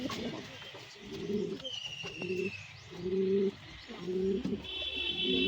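Fantail pigeons coo in repeated low, throaty phrases with short pauses between them, over a steady background of chirping birds.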